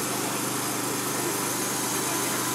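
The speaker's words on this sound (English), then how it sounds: "the Honda V-twin engine running perfectly" Honda V-twin engine on a 10kW generator set running smoothly at a steady idle, a constant close drone with an even mechanical vibration and no pauses.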